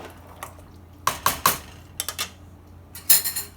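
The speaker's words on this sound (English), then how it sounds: "Give it a stir." A spoon clinks and scrapes against a pot while butternut squash soup is stirred, giving a few quick metallic taps in clusters, close and fairly crisp, over a quiet kitchen background.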